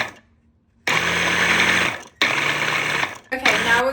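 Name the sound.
pink Paris Hilton immersion blender running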